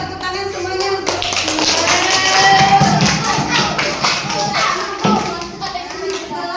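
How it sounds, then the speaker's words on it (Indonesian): Students in a classroom burst into clapping mixed with children's voices and chatter, a dense, fairly loud patter of hands sustained across the whole stretch, peaking midway and easing slightly toward the end. "tepuk tangan semuanya untuk"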